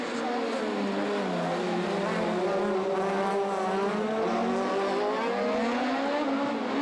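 Rallycross cars in a 2012 European Rallycross Championship race in Germany, engines roaring and revving hard together through the first corner, a dense, loud, continuous snarl of several cars with shifting pitch.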